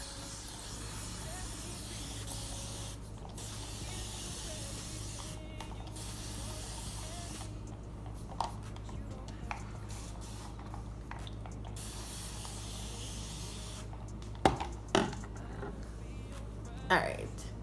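A spray bottle mists damp natural curly hair during a wash-and-go styling, with soft steady hissing and brief pauses, plus a few faint clicks from handling the bottle.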